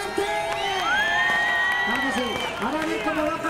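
A crowd at a village fiesta in Albelda de Iregua with the Orquesta Nueva Etapa claps and cheers loudly, with whoops and shouted voices layered over sustained tonal sounds, and talk mixing in.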